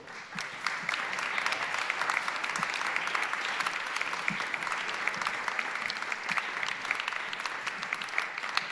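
An audience at a conference-debate on art and the forest claps for arriving musicians, a steady, continuous round of applause from a medium-sized crowd, fairly close, holding at even strength throughout.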